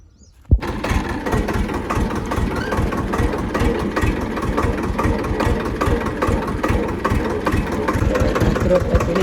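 A tractor engine, readied to fetch a rotavator, cranks and catches, then settles into a steady, loud, close idle with an even low throb that runs to the end with no talk.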